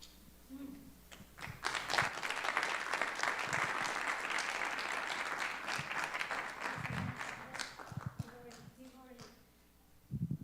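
An audience at a data science workshop applauds steadily for several seconds, with dense, sustained clapping from a crowd indoors, while a few voices speak briefly before and after.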